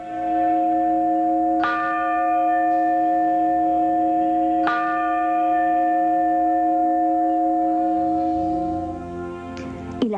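Large old church bells at San Pedro de Huancayre, hung on cowhide straps and inscribed 1675 and 1708, struck twice, each stroke ringing out with a long, humming resonance that slowly decays, near and loud.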